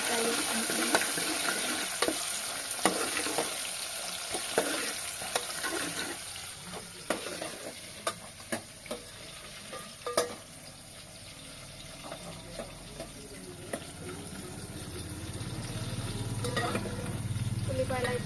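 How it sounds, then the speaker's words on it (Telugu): Chopped onions frying in a pan with a steady close sizzle, broken by sharp scrapes and taps of a stirring spoon, along with a brief gush of running water near the end. "ఉల్లిపాయలు వేసి మంచిగా ఫ్రై చేసుకుంటున్నాను"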